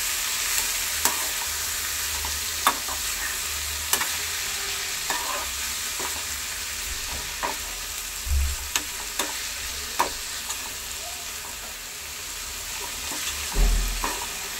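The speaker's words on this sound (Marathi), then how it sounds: "व्यवस्थित परतून घेऊ" Banana blossom being sautéed in a pan gives a steady soft sizzle, with occasional spatula scrapes and clicks on the pan surface throughout, close and moderately quiet with no voices.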